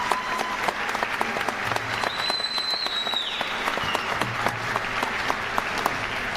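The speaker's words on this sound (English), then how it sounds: "you can give them a round of applause" Audience at a winter graduation ceremony for nursing and radiologic tech students gives a sustained round of applause, dense steady clapping from a large crowd in a big room, with a faint whistle cutting through midway.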